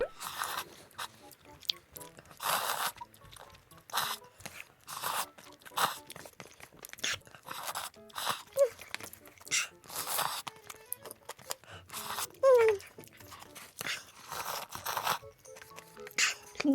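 Crisp, crunchy chewing of kimchi close to the mic, bursts of crunches repeating at an irregular pace with quiet pauses between.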